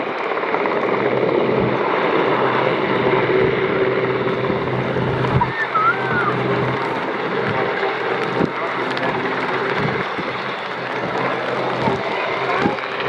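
A Westland Sea King HAR Mk.3 helicopter hovers at a seaside airshow, its rotor and turbine roar steady and fairly loud, with wind buffeting the microphone and faint thumps now and then.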